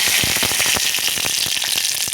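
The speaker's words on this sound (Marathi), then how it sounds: "सुरुवातीला आपण फोडणी करतो आहे." Ginger-garlic paste and tempering spices frying in oil and ghee give a steady, close sizzle with crackling pops throughout, and no one speaks.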